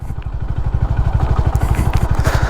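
Honda Highness CB 350 single-cylinder motorcycle thumping along in third gear at about 30 km/h, a steady close-up low-pitched pulse of rapid even beats, with wind noise over it.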